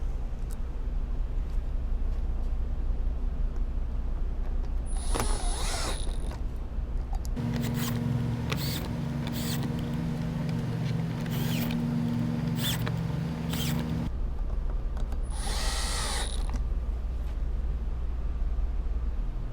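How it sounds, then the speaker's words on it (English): A power tool driving screws back into the engine shield of a Mk6 VW Golf GTI: several short bursts of motor whir with clicking ratchets and rattles, separated by quieter pauses. "then you're going to put all these screws back in."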